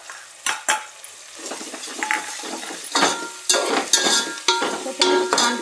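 Onion, tomato and ginger-garlic paste sauté in a pan with a soft sizzle under repeated scraping and clinking strokes of a spoon, close and irregular.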